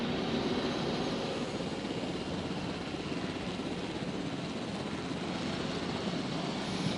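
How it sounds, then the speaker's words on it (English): Helicopter flight in the dinosaur park game Jurassic World Evolution, a steady, dense rotor and engine roar that holds at an even level throughout with no talking. "let's fly this helicopter"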